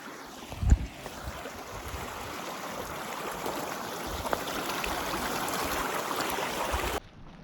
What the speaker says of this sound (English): So I'm gonna get some water from the stream here.